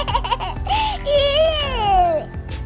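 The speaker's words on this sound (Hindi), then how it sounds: "ये बच्चे के रोने की आवाज कहाँ से आ रही है?" A cartoon baby cries with a long, wavering wail rising and falling near the middle, loud and close, with shorter whimpering sounds and background noise around it.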